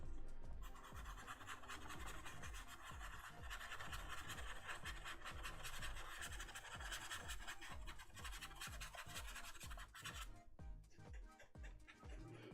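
A half-inch Richeson stencil brush scrubbing paint onto paper, rapid rhythmic scratchy strokes close up, continuous for several seconds before easing off near the end.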